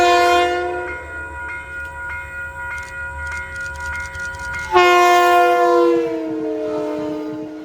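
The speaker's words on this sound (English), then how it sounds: "as a southbound train rolls by" A southbound passenger train rumbles past nearby in the Hudson Valley's Bear Mountain region, its multi-tone horn sounding in short blasts and then a longer, louder blare as it rolls by.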